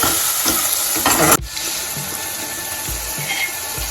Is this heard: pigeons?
no